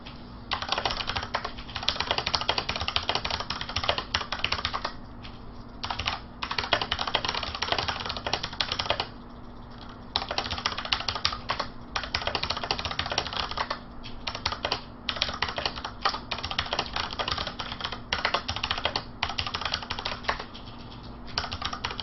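Rapid, continuous typing on a computer keyboard at a gaming stream setup: a close, busy clatter of keystrokes broken by short pauses, over a faint steady electrical hum.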